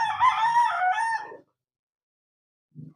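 A red Kelso gamecock crows once, loud and nearby, then silence follows before a faint short cluck near the end.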